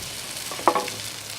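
Vegetables frying on a Blackstone griddle, a soft steady sizzle with a quick scrape or stir of a spatula midway, fairly quiet and without talk.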